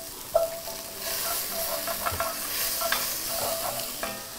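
Carrots for lentil soup fry with onions in a pan, giving a steady close sizzle with scattered clicks and scrapes from stirring.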